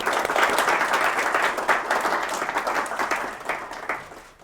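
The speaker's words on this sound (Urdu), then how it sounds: "تو آپ سب ان کو بہت خوش آمدید کہیے تالیوں کے ساتھ" A studio audience breaks into sustained applause welcoming a guest onto a talk show, a dense wash of many hands clapping that stays steady and then tapers off toward the end.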